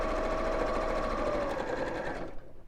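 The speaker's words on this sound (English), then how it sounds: "I'm just going to stitch all the way around the edge" A sewing machine stitches fabric around its edge with a steady, close mechanical whirring that runs continuously for about two seconds before stopping abruptly.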